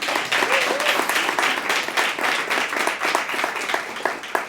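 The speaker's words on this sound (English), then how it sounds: "Can we pause for all of you to give yourselves a round of applause?" A pitch day audience claps together in sustained applause, a steady mid-level wash of many hands with a few sharper individual claps standing out.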